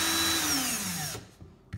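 An original Ryobi 1+ cordless drill whirs at speed, then its motor pitch drops as it spins down and stops, leaving near-quiet with a couple of small handling clicks.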